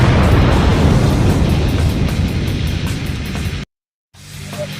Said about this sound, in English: Just a massive, massive explosion.